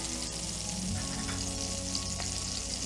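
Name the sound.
shallots added to hot oil, sizzling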